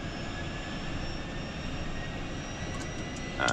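A Phenom 300 private jet engine spooling up during start, heard as a steady broadband whine and rumble with thin high tones, fairly quiet and even, with a brief click near the end.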